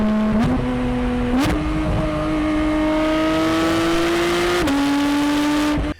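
A Porsche 718 Cayman GT4 RS engine revs hard close by: a loud, sustained howl that climbs in pitch, with brief blips and throttle changes, then cuts off abruptly at the end.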